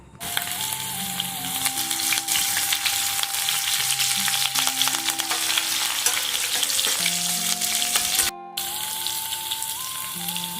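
Curry leaves frying in hot oil for bachali kura pappu, a steady dense sizzle with crackling that runs loud and continuous throughout, with a brief dropout near the end before the frying resumes.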